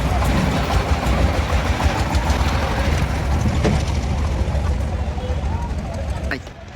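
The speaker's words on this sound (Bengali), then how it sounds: "আবার একটা পাওয়ার টিলারে করে গরু ঢুকতেছে এক পাওয়ার টিলার" A power tiller engine chugs steadily at close range at a cattle market in Chuadanga, with voices over it, then fades out near the end.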